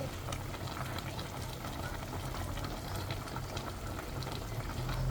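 Pork humba simmering in a pot with bay leaf and whole black peppercorns, a steady close bubbling and hiss that runs continuously for the whole stretch with no voices.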